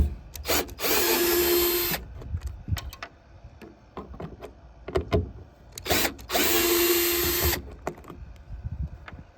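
A cordless power driver fitted with a T20 Torx bit spins out license plate light screws on a 1994-2001 Dodge Ram, two loud whirring bursts with a rising whine, separated by light clicks and handling noise.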